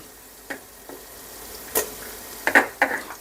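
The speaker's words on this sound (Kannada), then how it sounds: "ಇದಕ್ಕೆ 1-2 ಟೊಮೆಟೊ ಹಣ್ಣು ಹಾಕೋತಾ ಇದ್ದೀನಿ" Chopped sour tomatoes dropped into a pan of seasoned rice mixture, giving a faint sizzle of frying with a few sharp metallic clinks and scrapes of a spoon stirring against the pan.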